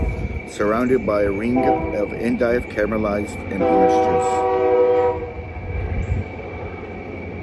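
A passing train sounds a long, steady horn blast partway through, with rumbling rail noise underneath, while a voice keeps reading aloud over it.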